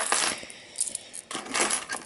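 Metal lock keys being handled, with bright jingling clinks in two bursts separated by a short quieter gap, close and alone with no talking.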